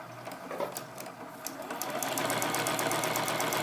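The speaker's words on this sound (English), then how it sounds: "take this whole thing over to the sewing machine and sew a quarter of an inch stitch down this side" A sewing machine stitches a quarter-inch seam down the side of a quilted tic-tac-toe game, its rapid, even needle clatter steady and close, growing busier and louder toward the end.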